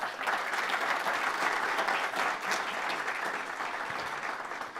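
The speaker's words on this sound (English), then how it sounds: "Big round of applause for Chris." A crowd at a small business pitch event gives a sustained round of applause, dense and even clapping that holds steady and then begins to taper off.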